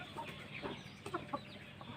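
Chickens in a poultry pen that also holds roosters give a few short, faint clucks in quick succession, heard from a little distance with no voices.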